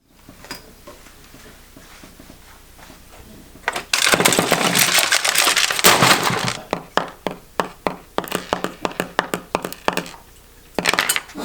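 An old VCR being taken apart by hand, with clattering plastic and metal parts, sharp cracks, thunks and small ticks coming in irregular bursts, loudest as a dense crunching spell partway through.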